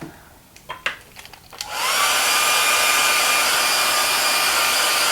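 Hair dryer blowing steadily on fabric paper, switching on after a few short handling noises and then running loud and continuous, close by, with no talk.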